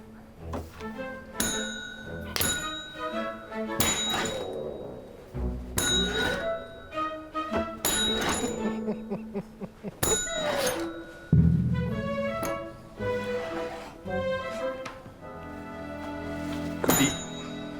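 A bell rings out several times at irregular intervals, each strike clear and ringing with a long decay, close by and loud.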